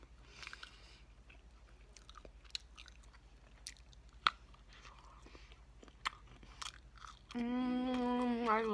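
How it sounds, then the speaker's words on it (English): Close-up mouth sounds of someone eating mushrooms from a veggie platter, with soft bites, crunches and wet chewing scattered over the stretch, ending in a brief steady tonal hum. "I hope I don't get sick eating mushrooms like this."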